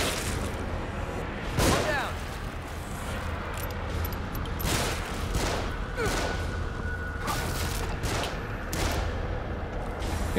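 Gunfire in the survival-horror video game The Evil Within: scattered single shots crack out at irregular intervals over a steady game backdrop, with people talking in between.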